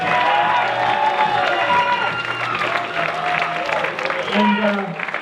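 Audience applause and cheering after player introductions at a school game event, dense and sustained for about five seconds with crowd noise and whoops, voices mixed in.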